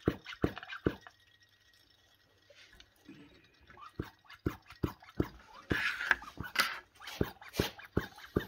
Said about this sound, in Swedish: Börja droppa ner så smått i behållaren här nu.